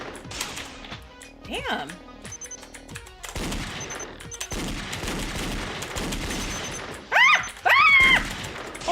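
Rapid gunfire bursts from the video game Danganronpa Another crackle against a backdrop of game music and effects, with someone talking loudly over the action.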